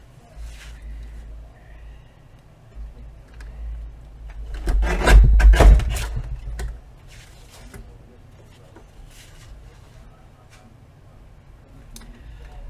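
A large paper trimmer slices through cardstock for a flip-flop journal, giving one loud rasping cut midway through an otherwise quiet stretch of faint handling noises.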